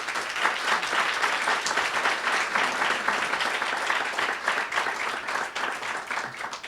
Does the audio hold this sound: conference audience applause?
yes